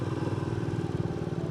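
A motorcycle engine runs with a steady low rumble, loud and continuous, during a ride along the seaside on the Konkan coast road toward Ganpatipule.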